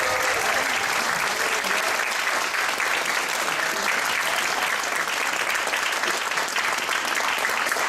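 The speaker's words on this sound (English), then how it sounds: "So please give him a huge round of applause." A large audience gives sustained, dense applause welcoming a speaker to the stage at a talk, loud and steady throughout with a crowd murmur beneath and no speech.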